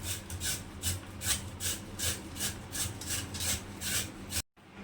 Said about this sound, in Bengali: আলুটা আগে ঘষে নিচ্ছে এভাবে করে ঘষে ভালো করে ধুয়ে নেব